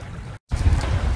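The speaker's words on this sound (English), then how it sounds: "Sailing up towards Garry's Anchorage." A sailboat moving up the Sandy Straits toward Garry's Anchorage, with a steady rush of wind and water and low rumble close by, broken by a brief total dropout before the noise resumes.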